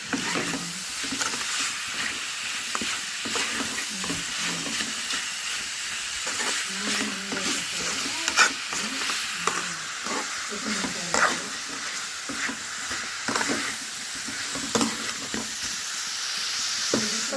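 Chicken with masala frying in hot oil for a Shivaratri home meal, a steady close sizzle broken by frequent scraping stirs and occasional sharper clatters of the spoon against the pan.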